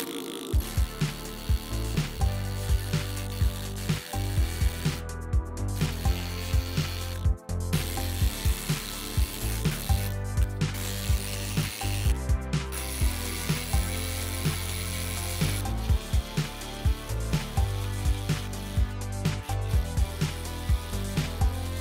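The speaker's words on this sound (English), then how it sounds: "So I needle scaled it, I'm gonna say for about 5 minutes hard." A pneumatic needle scaler hammers hard against a titanium workpiece in a shop, a loud, dense rapid rattling that runs almost continuously with brief pauses and restarts, no talking.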